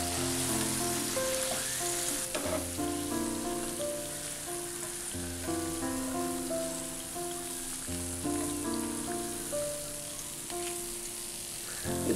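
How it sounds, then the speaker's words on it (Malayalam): Bitter gourd chips fry steadily in hot oil, a constant crackling sizzle with occasional turning, under soft background music. "ഇത് ഇങ്ങനെ വറുക്കുമ്പോൾ നമ്മൾ ഇങ്ങനെ എണ്ണയിൽ ഇങ്ങനെ ഇടയ്ക്കിടയ്ക്ക് ഇങ്ങനെ തിരിച്ച് മറിച്ചൊക്കെ ഇട്ട് വേണം വറുത്തെടുക്കാനായിട്ട്"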